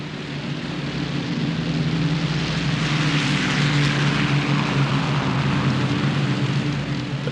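A WWII bomber's propeller engines drone steadily and loudly as the aircraft taxis and takes off, a broad continuous roar with no voices.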